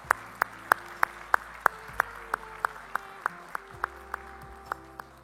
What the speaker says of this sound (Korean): 성도님들께서는 사랑과 존경의 마음을 담아서 큰 박수를 보내주시길 바랍니다